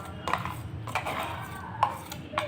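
Coarsely ground urad dal batter scooped into a vessel, with a few soft scraping and light knocking sounds of a spoon against metal, spaced irregularly and fairly quiet.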